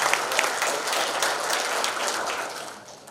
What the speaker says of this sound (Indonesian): Tepuk tangan buat kawan.